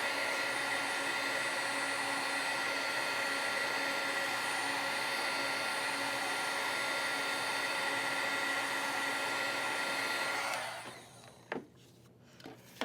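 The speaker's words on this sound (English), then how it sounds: "I'm just going to heat dry it for speed." Heat tool drying alcohol marker ink on card, a steady loud blowing whir that runs unbroken for about ten seconds before switching off, leaving a few faint handling clicks.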